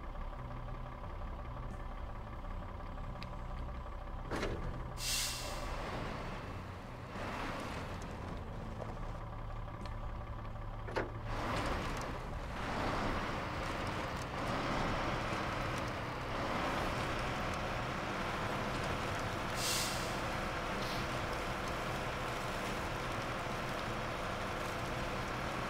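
A heavy truck in the video game SnowRunner rumbles along with a low, continuous engine drone, quiet and steady, with a few brief clunks and bumps scattered through the drive and no talking.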